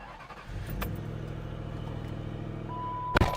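A car engine with an aftermarket exhaust catches and settles into a steady, low rumbling idle, close by, with a sharp click near the end.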